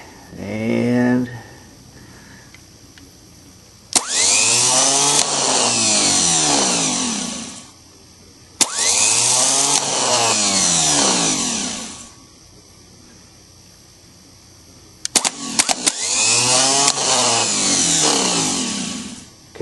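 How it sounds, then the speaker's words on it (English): A brand-new starter motor on a VW pickup cranks in three loud, sustained bursts of a few seconds each, with a whirring, grinding tone and short pauses between them. "that's a brand new starter"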